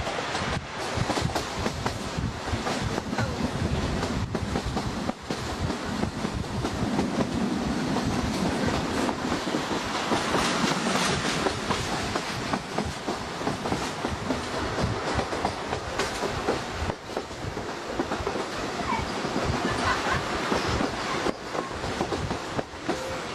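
Trains rolling through a 1983 railway station in Vaniyambadi, a steady loud rumble with clickety-clack of wheels on rails running throughout, no voices.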